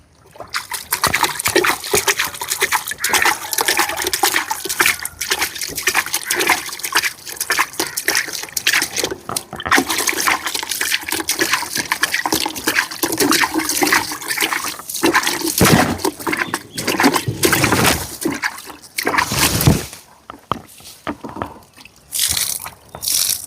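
Water is poured onto peanut plants in a home garden, a long run of uneven splashing and dripping with bursts and brief pauses, close by and fairly loud.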